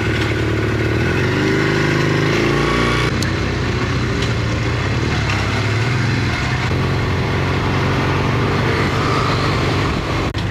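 Steady motorcycle engine drone while riding, loud and close throughout with a low rumbling tone and no speech over it.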